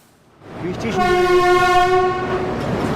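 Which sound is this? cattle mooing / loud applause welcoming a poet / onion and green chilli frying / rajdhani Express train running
rajdhani Express train running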